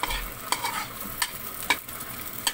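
Onion sautés in a pan with a little olive oil, a soft, steady sizzle broken by sharp scraping clicks of a stirring utensil roughly every half second. The sound is close, with no talking.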